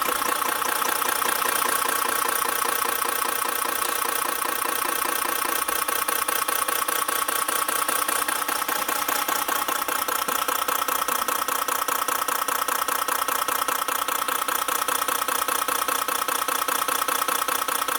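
A Caterpillar 8M3 diesel engine idles steadily at 600 RPM, a loud, continuous mechanical drone with an even rhythmic knock running unbroken throughout, with no voices.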